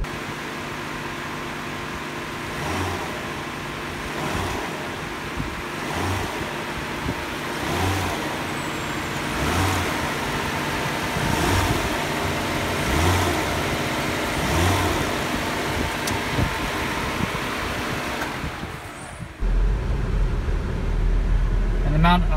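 A Nissan Maxima GLE engine runs steadily with a low, rhythmic pulsing hum, then near the end the tone shifts and deepens as the car is put into reverse; a voice speaks over the running engine.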